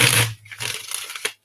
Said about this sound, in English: Let me shuffle one more time for you.